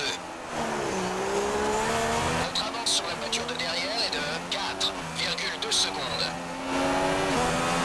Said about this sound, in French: Vous voyez que ça commence à glisser à la réaccélération.